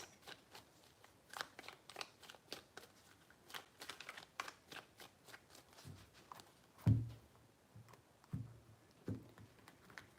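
Tarot cards shuffled by hand in quiet close-up, a rapid run of crisp papery flicks and riffles followed by a few louder taps and slaps as the deck is squared.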